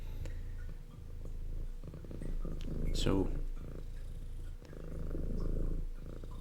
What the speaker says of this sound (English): that is what that sound is in the microphone, a purring visitor